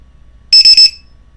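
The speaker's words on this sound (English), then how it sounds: "And when you connect it, you'll hear a beep" A LiPo battery charger gives three quick, shrill electronic beeps in fast succession as a 2-cell battery is connected, loud and close, then quiet.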